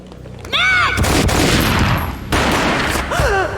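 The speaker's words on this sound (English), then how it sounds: "A gunshot boomed" Gunfire in the Max Payne video game, a loud boom with a sustained burst of shots and echoing rumble, set against a tense musical score with rising tonal swells.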